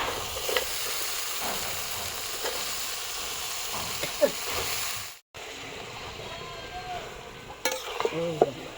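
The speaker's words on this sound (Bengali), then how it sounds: "কচুটা আমরা কড়াইতে দিয়ে দিব এখন" Taro sizzles and crackles in hot oil in a wok, with occasional stirring clinks and scrapes; a short gap breaks the steady frying hiss.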